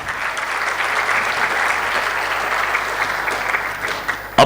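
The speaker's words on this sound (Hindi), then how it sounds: "जोरदार तालियां।" Loud, steady applause from a large audience at a marathon conference fills the room without pause, ending in a few sharper claps.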